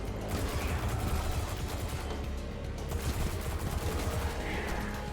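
Rapid, dense pistol gunfire in the sci-fi shooter game Destiny 2 rattles on steadily for about five seconds, loud and close, with no one speaking over it.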